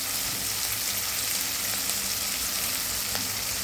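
Onion and tomato sauté in a pan for masala idli, giving a steady, close, even sizzle and crackle throughout with no talking.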